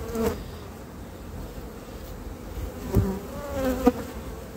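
Honeybees buzz around an open hive where a queen walks among brood frames. The drone is steady and close, with a few louder passes near the end.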